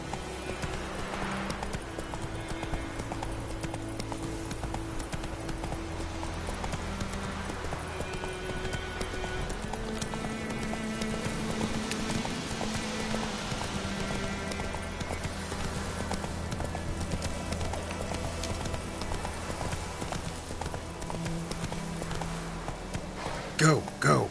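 Hooves of the horse Roach clop in a steady galloping rhythm in The Witcher 3, running under music and a man's speech throughout.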